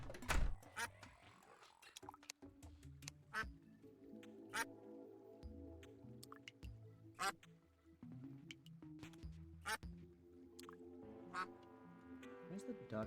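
Duck quacking in repeated short calls at irregular intervals, fairly close and clear over a low background, with some soft talking now and then.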